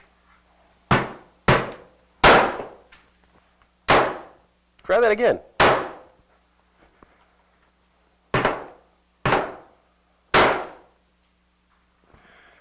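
A real hammer strikes a cast 3D-printed drone part again and again, about nine sharp, ringing clangs spaced unevenly, one a rattling multi-hit clatter, with a brief spoken line in between.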